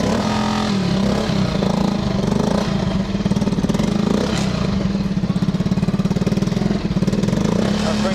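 A Honda Super Cub motorcycle's small engine running close by, a steady, even putter at idle that holds a throbbing pulse throughout.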